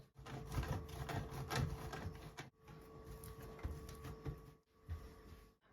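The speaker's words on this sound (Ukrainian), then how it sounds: "Беремо 200 грам сиру і натираємо на крупну терку." Two hundred grams of cheese rubbed against a coarse grater for a potato casserole, giving steady rhythmic rasping strokes close up with brief pauses and no talking.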